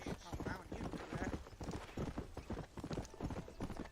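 Horse hooves clip-clop steadily and close in Red Dead Redemption, a quick, even rhythm of hoofbeats running throughout, with a voice talking over the gait.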